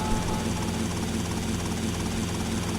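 Helicopter in the video game GTA: Vice City, a steady, close rotor drone with a continuous engine whine, loud and unbroken for the whole stretch, with no talk over it.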